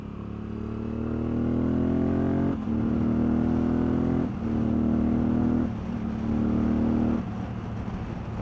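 Race motorcycles at the NW200 road race scream loudly as they accelerate flat out, the engine note climbing and dropping with several quick upshifts in a row, sustained and close with no talking.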